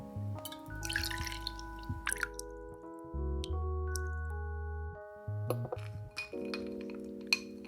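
Vodka pours into a glass for a Baileys and butterscotch ice cream cocktail, giving a short liquid trickle with clinks of glass among a loud background of sustained music.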